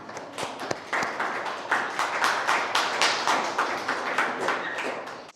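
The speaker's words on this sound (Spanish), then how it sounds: "Un aplauso para ustedes." Audience at a Bach-and-jazz piano master class breaks into dense, steady hand clapping, close and lively, holding for several seconds before stopping abruptly.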